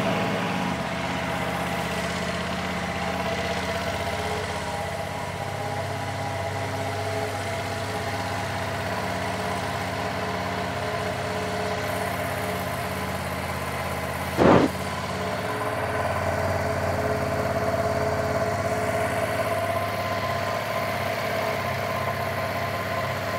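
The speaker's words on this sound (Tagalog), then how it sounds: "So, let's start this bike para magka-idea rin kayo sa tunog." A 2025 Ducati Multistrada V2 motorcycle engine idles with a steady, rumbling drone close by, broken once by a brief sharp knock midway, with no talking.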